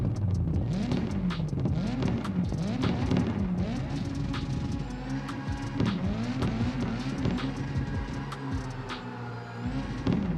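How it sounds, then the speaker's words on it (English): Engine and drift sounds from the video game CarX Drift Racing 2, with a car revving in repeated rising and falling sweeps, tyres squealing and skidding, and a slight echo, continuous and without talk. "Yes, we finally have crazy realistic car sounds in CarX."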